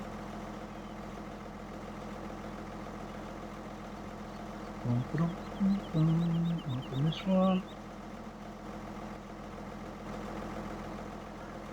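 A tractor engine idles in Farming Simulator 2017, a steady low rumble running throughout, while a voice speaks briefly over it.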